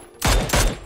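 Two loud, close bursts of gunfire in the battle royale game PUBG, each a sharp blast with a booming tail, spaced about a third of a second apart.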